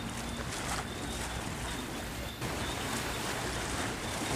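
Fishing boats come into the harbour at Binh Ty port, heard as a steady loud wash of engine rumble and churning water with wind noise, continuous and close throughout.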